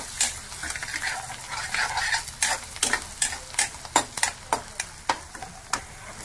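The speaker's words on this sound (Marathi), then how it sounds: "लसूण बरोबर चॉप अद्रक ते सुद्धा टाकणार आहोत। हे दोन्ही व्यवस्थित मिक्स करूया आपण।" Chopped garlic and ginger sizzle over a high flame while a spoon scrapes and stirs them, giving a steady frying hiss broken by a run of sharp, regular scraping strokes that grow more distinct toward the end.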